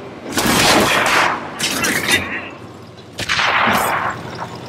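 Loud, close gunfire in the Payday video game comes in several bursts of shots with rumbling echoes and brief pauses between them.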